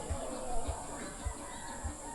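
Chickens cluck softly in the background at a rural home, a few low, evenly spaced clucks under a steady hiss of ambient noise.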